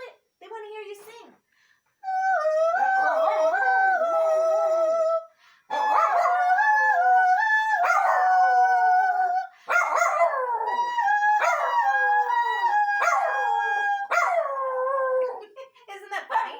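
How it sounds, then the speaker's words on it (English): A dog howls along to a person's yodeling in long, wavering, tuneful phrases, repeated in several bursts close to the microphone, with a voice heard at the start. "But when I do it, the dog howls"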